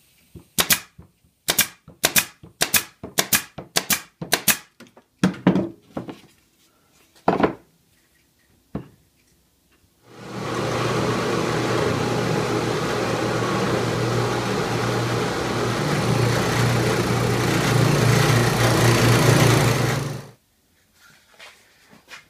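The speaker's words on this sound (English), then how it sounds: "we will use it to hold the piece while we drill out the holes with the Forstner bit" Forstner bit boring holes in wood held in a scrap plywood jig: a run of sharp knocks and clatters first, then a steady loud drill whine for about ten seconds that stops abruptly, with no talking.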